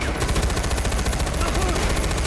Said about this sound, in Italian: Mi stanno sparando da qualche parte, arrivano degli spari da qualche parte